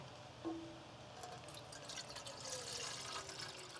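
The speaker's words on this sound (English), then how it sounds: "The first thing that we're going to do is introduce our water to our pot" Water poured into a dry cooking pot outdoors at a bushcraft camp, a faint, steady trickling stream with small splashes and drips, fairly soft and close amid light outdoor ambience.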